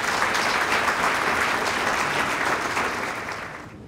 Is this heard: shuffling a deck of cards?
no